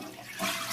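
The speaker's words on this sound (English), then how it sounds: "Flush the toilet." A toilet flushes during a fill valve replacement, a steady close rush of water that swells slightly louder midway through the short stretch.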